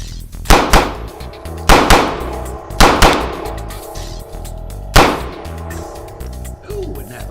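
Four sharp, loud gunshots from a Ruger LC9s pistol, fired singly and unevenly over several seconds, each a hard crack followed by a short decaying ring.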